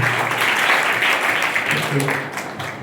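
Audience at a school book and compass distribution event in Sankheda clapping together in a steady, sustained wave of applause, fairly loud and continuous, with some voices mixed in.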